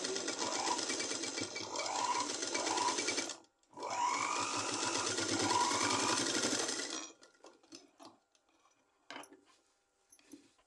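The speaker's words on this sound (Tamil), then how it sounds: "அப்படியே திருப்பி இன்னொரு தையல் பக்கத்துலேயே போட்டு வந்துடுறேன்" A sewing machine stitches a blouse neckline made from straight fabric in two loud, rapid runs split by a brief pause, followed by quieter handling noises and small clicks.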